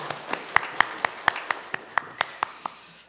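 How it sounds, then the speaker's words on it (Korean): A church congregation claps in praise to the Lord during a Sunday service, about a dozen distinct claps in a steady, measured rhythm, fairly close and moderately loud, with no voices over them. "주님께 영광의 박수 올려드립니다."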